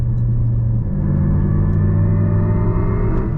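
A 2026 Lexus RZ electric car floored at full throttle gives a steady, loud rising whine and rumble from inside the cabin, with the pitch climbing smoothly and no speech.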